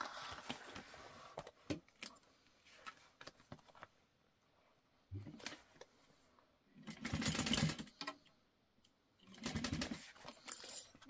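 A sewing machine stitches a tote bag in short runs: bursts of rapid mechanical chatter broken by pauses and small handling clicks, nearby and moderately loud, with no talk.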